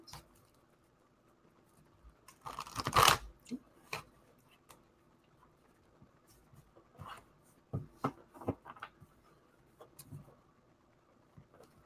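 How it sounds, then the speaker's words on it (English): A quick riffle of cards being shuffled, loud and close, followed by softer scattered taps and shuffling noises in a quiet room. "They're telling me to shuffle this deck 3 times."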